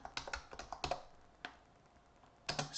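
Bursts of typing on a computer keyboard, close and fairly quiet, with clusters of rapid key clicks separated by a short pause, then another quick flurry.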